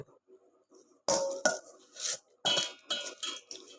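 Fish is tossed with seasoning in a bowl, producing loud, irregular clattering and scraping bursts of a utensil against the bowl, close and separated by short pauses.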